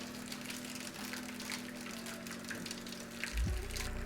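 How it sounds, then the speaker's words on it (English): Water poured into a baking pan around an Oreo cheesecake before it goes into the oven, a soft steady trickle and gush heard up close, with a low hum beneath. "now we're going to put our water in and get it into the oven. So literally just pour it in"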